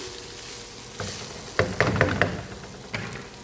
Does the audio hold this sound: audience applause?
no